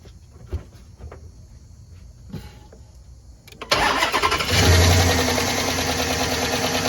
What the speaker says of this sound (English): As you can hear it, you hear this tapping noise.